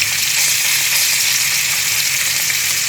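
Tilapia pan-frying in hot oil, a loud, dense, continuous sizzle heard close up without a break.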